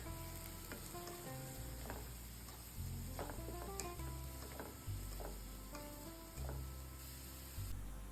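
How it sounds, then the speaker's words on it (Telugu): Thinly sliced onions fry in hot oil, giving a steady, faint crackling sizzle with occasional stirring clicks, set against soft tonal background music. "మంచిగా కాగాక సన్నగా తరుముకున్న ఆనియన్స్ వేసుకోవాలండి"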